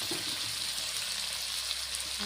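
Tomato frying in a pan for a salted hilsa curry, a steady broadband sizzle that holds at an even level throughout with no talk over it.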